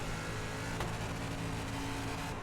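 A dirt limited late model race car engine roars steady and loud at Knoxville in the iRacing sim, holding one droning pitch with no rise or fall and no voices.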